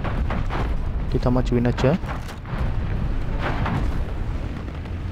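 An ISU-122 tank's 122mm cannon booms in War Thunder Mobile amid heavy battle rumble and other blasts, while someone speaks over the noise.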